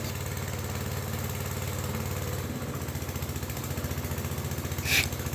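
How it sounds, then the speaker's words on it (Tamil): A Honda petrol engine drives a 2 HP Elgi triple-plunger high-pressure car washer pump, a steady close idling drone with a regular pulsing beat and one brief sharp burst near the end. "2 HP triple ப்ளஞ்சர் LG model car washer coupled with petrol engine"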